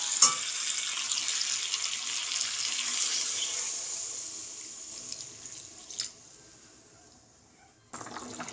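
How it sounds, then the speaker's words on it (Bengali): Water is poured into a pan of potatoes for a vegetarian aloo dum, giving a steady hissing splash that slowly fades, followed by a short clatter and quieter kitchen noise. "এবার আমি জল দেব।"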